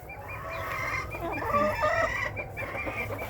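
A rooster with a fine comb clucks steadily in a backyard poultry yard with chickens, a close, moderately loud run of throaty calls with no talking.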